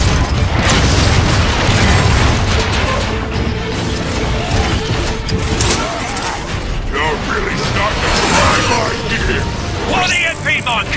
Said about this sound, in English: Airstrike commencing.